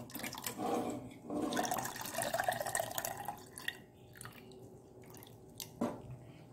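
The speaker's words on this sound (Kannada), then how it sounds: "ಈಗ 3 ಸತಿ ಒಟ್ಟು ನಾನು ಇದನ್ನು ನೀರಿನಲ್ಲಿ ತೊಳಿತೇನೆ." Ripe mango pulp is washed by hand in a vessel of water, with intermittent sloshing, splashing and dripping that come in bursts and then fade to occasional drips.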